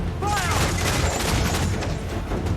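Ship cannons fire in Assassin's Creed IV: Black Flag, a dense rumbling barrage of overlapping booms during a naval battle, with shouted commands mixed in.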